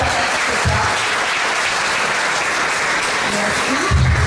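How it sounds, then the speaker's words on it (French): An audience at a Paris information meeting applauds a team with dense, sustained clapping that stays loud and even throughout, with a few faint voices underneath. "Vous pouvez les applaudir."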